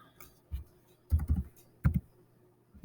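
Keys on a computer keyboard clack close by in a few short, separated bursts of taps with quiet pauses between them, and no voices.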